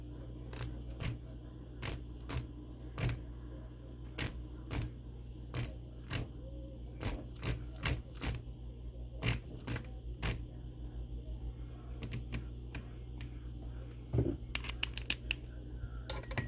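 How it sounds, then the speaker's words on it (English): A torque wrench clicks repeatedly as bolts on a high-rev 196cc engine are tightened, sharp metallic snaps arriving in irregular bursts against a quiet background, growing quicker and more clustered toward the end. "Bust out the torque wrench again."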